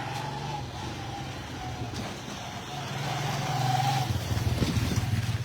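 Cars pass along a main road nearby, a steady mid-distance traffic rumble that swells toward the end as a vehicle draws closer, with no talking.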